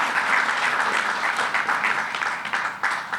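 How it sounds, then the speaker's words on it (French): An audience at a ministerial meeting in Dakar on water issues applauds in a dense, steady wash of clapping that swells slightly and stays loud for about three seconds. "Je vous prie de leur donner un applaudissement."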